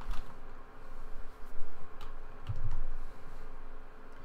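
Keystrokes tapped on a computer keyboard while writing Ruby code, a soft, irregular run of close clicks over a steady low background hum.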